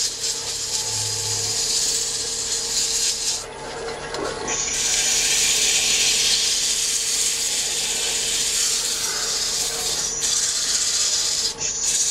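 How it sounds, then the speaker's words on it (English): Hand sanding of wood with fine sandpaper, following 120 grit to remove its scratches near beading and a barrel end; continuous close rasping strokes with short pauses between passes, no talk. "All it's doing is removing the scratches from the 120 grit."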